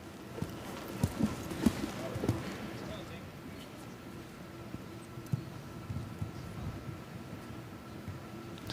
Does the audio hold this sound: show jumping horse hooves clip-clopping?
yes